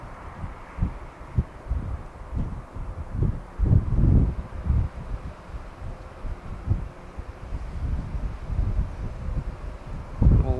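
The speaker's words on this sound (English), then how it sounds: "It's a windy day, cold, but sunny" Gusty wind buffets the microphone outdoors beside a railway on a cold, sunny day, producing irregular low rumbling thumps and a steady roar that swells and fades throughout, with no one talking.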